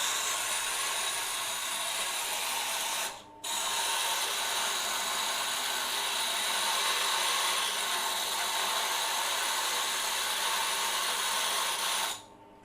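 Jewelry lathe spinning a diamond polishing wheel against a wedding ring, a steady high whirring hiss that stops briefly, runs on evenly and cuts off near the end.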